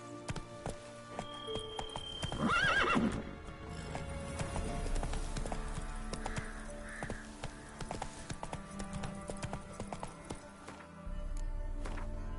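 Horse hooves clip-clop at a quickening pace in The Witcher 3 on PS5, with a brief whinny early on and a steady run of hoofbeats continuing underneath game ambience.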